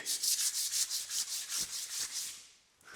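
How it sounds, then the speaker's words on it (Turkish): Sandpaper rubs rhythmically back and forth on a wooden handle, about a dozen quick scratchy strokes up close, then a pause. "Zımparada yuvarlayabildiğim kadar yuvarladım."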